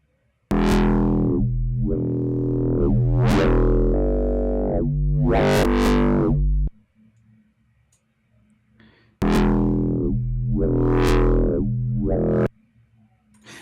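A synth melody runs through a wave-shaping distortion plugin, giving loud, gritty sustained tones in two phrases with a quiet gap between them.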